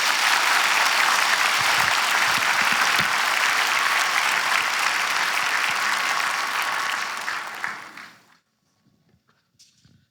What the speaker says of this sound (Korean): 큰 격려 박수 한번 해주세요.